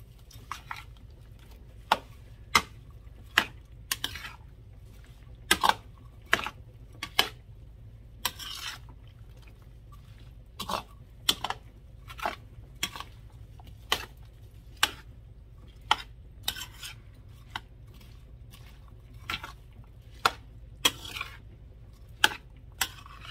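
A spoon stirs pineapple salsa seasoned with garlic powder and pepper in a bowl, making a steady run of sharp, close clicks and scrapes against the bowl at an uneven rhythm, with no talking.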